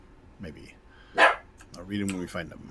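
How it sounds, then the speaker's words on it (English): A dog barks once sharply in the background at a home, followed by a softer bark, while a person talks quietly nearby. "And I think that's my dog again,"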